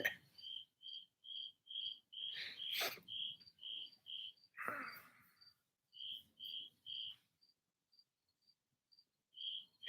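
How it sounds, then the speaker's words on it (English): Crickets chirp outdoors at night in a steady, regular pulse of short high trills, fairly close and clear, with a few brief rustles and thumps breaking in between. "there's the crickets out here, man. They're huge."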